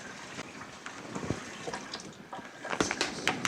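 Cold water pours into a container of dried food to rehydrate it, a close, low splashing trickle with a few brighter drips and sloshes that grow louder toward the end.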